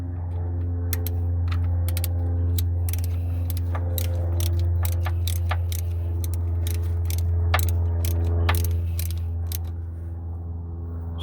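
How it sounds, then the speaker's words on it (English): Ratchet clicks while tightening bolts on the VTEC solenoid of an Acura TL, sharp irregular ticks close by over a steady low engine-bay hum, no talking. "grab the ratchet. Now we're gonna tighten everything up."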